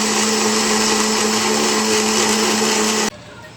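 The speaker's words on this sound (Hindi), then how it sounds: "आइए जग को हम बंद करते हैं और इसको अब हम ब्लेंड करेंगे।" Blender jug blending cherries into juice, a loud, steady high-pitched motor whir close up that cuts off abruptly near the end.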